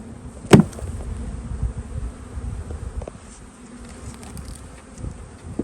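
Honeybees buzz softly around an open hive being smoked during winter beekeeping in Southern California, a steady low hum with a sharp brief knock early on.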